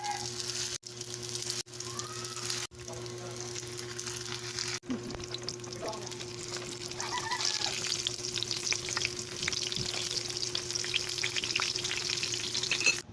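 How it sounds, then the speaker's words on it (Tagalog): Lumpia shanghai spring rolls frying in a pan with oil, a steady loud sizzle and crackle broken by a few brief cuts, then continuing strong and constant with no talking. "Pagkayari ko nga pala magbalot ay nag-umpisa na rin ako magprito."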